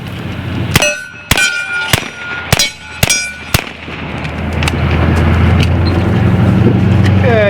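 An S45 Mini .45 caliber air pistol fires about seven sharp, loud reports in fairly quick succession over the first four seconds. A low rumble of background noise follows.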